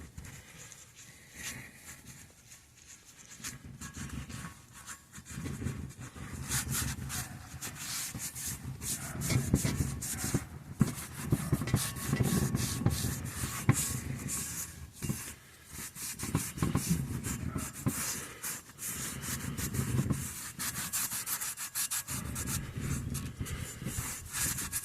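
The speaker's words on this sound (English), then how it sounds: "wipe it down with the acetone. That's going to remove any grease or anything else that might still be lingering" A cloth rubs acetone over used wheels from a 2002 GMC Sierra, a continuous close scrubbing and rubbing noise that swells and dips in long strokes, with short pauses in between.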